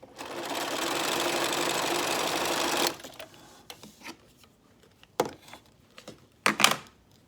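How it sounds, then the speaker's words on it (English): A sewing machine stitches fabric along a welt cord for home decor piping, running in one steady, fairly close burst for about three seconds before stopping, followed by a few small handling clicks and taps. "drop your needle in right at that point right there where it comes together, and sew right down to that point right there"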